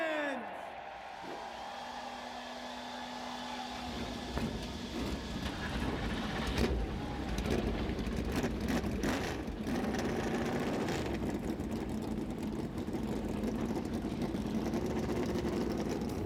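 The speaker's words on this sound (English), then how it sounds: "Drivers, start your engines." NASCAR Cup Series stock car engines firing up at Martinsville Speedway for the Cook Out 400, a swelling mass of loud rumbling motors after a brief announcer's voice, sustained and dense throughout.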